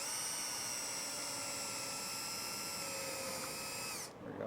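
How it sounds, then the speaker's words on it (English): A power drill with a self-centering bit bores into Turnstyle door hardware, a steady high-pitched whine running close and loud for about four seconds before abruptly winding down. "I'm gonna get my VIX bit self-centering drill bit in there"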